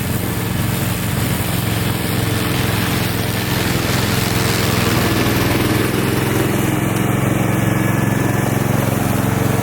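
A Koham remote-control tracked lawn mower cutting grass and weeds, its engine droning steadily and loudly close by throughout, with no pauses or voices.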